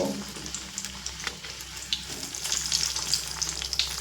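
Fish roe fritters fry in hot oil with a steady crackling sizzle, interspersed with scattered sharper pops and spatters that grow slightly busier toward the end; nearby and moderately loud, with no voices.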